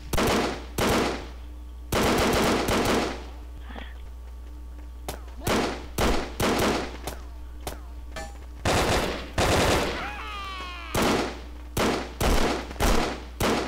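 Rapid bursts of automatic gunfire in the online battle video game Brick Force, loud and close, firing in repeated short volleys separated by brief pauses, with a few spoken remarks mixed in.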